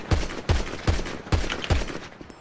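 Five loud gunshots from a video game weapon, evenly spaced about half a second apart, close and sharp with no talk.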